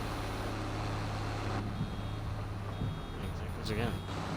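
Vehicle reversing alarm from Farming Simulator 22, a steady electronic beeping that carries on under a low engine drone and someone talking.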